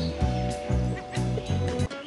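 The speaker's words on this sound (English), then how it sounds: "The chickens escaped and now they're everywhere." Cartoon chickens clucking in the PAW Patrol Rescue World video game, a string of four or five close, rhythmic squawking clucks over a steady game music backdrop.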